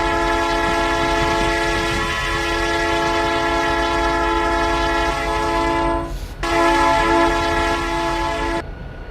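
In the Roblox game RO-Scale Sandbox, a Canadian Pacific freight train sounds its horn in a loud, sustained multi-tone chord. The horn holds steady, breaks off briefly, then blasts again before cutting out, with rumbling wheels underneath.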